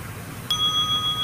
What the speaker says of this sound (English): Bells are ringing to remind you.